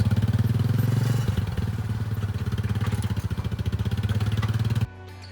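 An ATV engine hauling stone slabs and blocks at a building site for a bunkie foundation, a close, loud, steady pulsing chug throughout that cuts out abruptly near the end.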